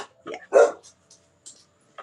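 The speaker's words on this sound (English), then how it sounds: "I apologize for the dogs" A dog barks sharply a few times close by, one loud bark standing out, followed by fainter yips and short sounds trailing off.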